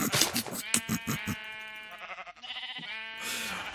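Sheep bleating in the Minecraft video game, several short bleats close together near the start and more later, loud and alone with no talk.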